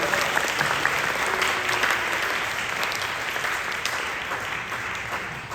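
A room full of people claps steadily and loudly, a dense continuous applause that holds for several seconds.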